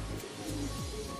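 Racing pigeons coo in low, rolling murmurs, a couple of soft descending calls standing out over a steady background hum, close by and fairly quiet, at a derby loft in Caranglan, Nueva Ecija.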